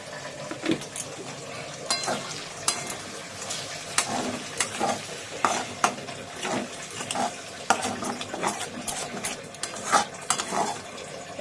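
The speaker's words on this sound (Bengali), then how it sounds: "এবার এটাকে ভালো করে কষাবো, নাহলে রসুনের আদার কাঁচা গন্ধ ছাড়বে।" Garlic and ginger paste being stir-fried for coriander chicken, with a utensil scraping and clattering against the pan in steady repeated strokes over a soft sizzle, close and fairly loud, no talking.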